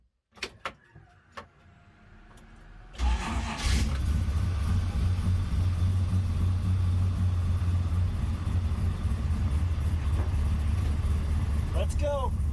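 Ultima GTR sports car, a few clunks and clicks at first, then the engine fires up into a loud, steady deep rumble that holds at close range, with a voice speaking over it.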